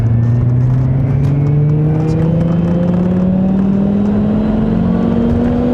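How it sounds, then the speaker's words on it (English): A powerful 2006 Lamborghini Gallardo twin-turbo engine roars close by, its pitch climbing slowly and steadily as it revs, while someone makes a brief remark. "I love how it sounds. I feel like it's gonna suck my head in that engine."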